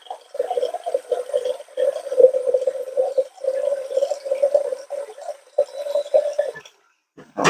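Water pours from a pitcher into a jar of sprouting seeds in a close, fairly quiet stream of splashing and trickling with a few short pauses, ending in a brief sharper sound.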